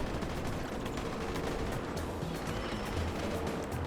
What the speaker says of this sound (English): you just heard it, firework launchers.